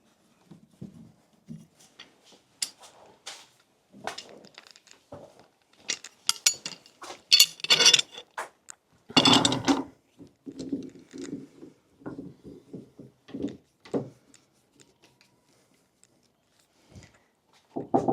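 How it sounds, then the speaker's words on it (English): Big clamps being fastened onto a board before a circular saw cut, heard as sparse close metallic clicks, knocks and ratcheting clinks in irregular bursts, separated by quiet gaps. "I'm going to clamp on that side"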